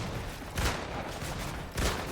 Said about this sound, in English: Gets shot from height.